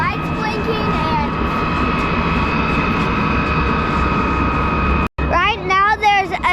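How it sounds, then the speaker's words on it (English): Gray Navy jet taking off, a loud sustained engine roar with steady whining tones, heard at a distance under people talking. "right now there's a jet taking off. And it's that gray Navy jet over there."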